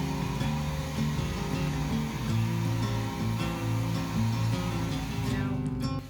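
Air is blown over wet acrylic pour paint to spread it into a blowout, a steady, loud whirring rush of air that runs unbroken for the whole stretch.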